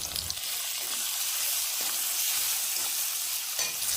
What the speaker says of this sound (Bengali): জল দিয়ে মশলাটা খুব ভালোভাবে কষে নিচ্ছি